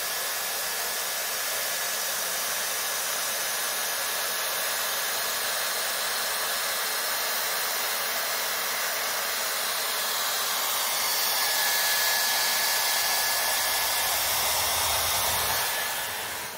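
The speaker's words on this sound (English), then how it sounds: "I blow dry my root first, then I'm going to clamp it on my hair and run it slowly through one pass." A Dyson Airstrait hair dryer and straightener blows steadily and loudly at close range as it runs slowly through hair, giving a continuous airy whoosh for about sixteen seconds with no talking.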